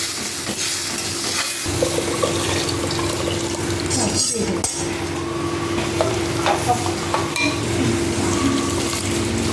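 Khichuri being stirred in a pot after a hot tempering goes in, a steady sizzle and scraping stir running throughout with faint watery sloshing, fairly loud and close with no talk.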